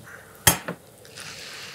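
A metal frying pan is picked up and set down in a home kitchen: one sharp clatter, a smaller knock just after, then a soft scraping rustle, all close and with no talk.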